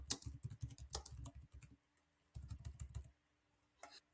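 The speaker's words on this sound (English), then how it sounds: "I can start typing" Bursts of rapid clicking keystrokes on a computer keyboard, close and clear, coming in two separate runs with a short pause between them and no voices.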